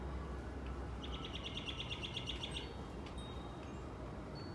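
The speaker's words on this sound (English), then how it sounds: "This bird came down to sing" A bird sings a rapid, evenly pulsed trill of about a dozen bright notes in the evening, fairly close, over steady low background rumble, then a few scattered chirps.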